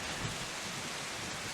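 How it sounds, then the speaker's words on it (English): Rain falling through a forest canopy as tabletop RPG ambience, a steady hissing wash of drops with a faint low rumble underneath, continuous and even throughout the short stretch. "the rain is just coming down"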